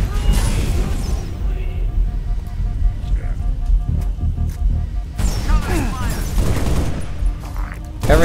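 Continuous gunfire and crashing impacts fill a chaotic video game battle in Sleeping Dogs, loud and dense throughout, with a voice speaking over the shooting.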